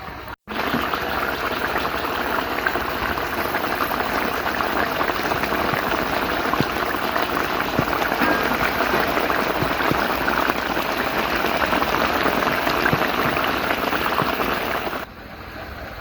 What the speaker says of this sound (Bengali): মাছটা মাংসের মতো, তাই 10 মিনিট খুব ভালো করে ফুটিয়ে নেব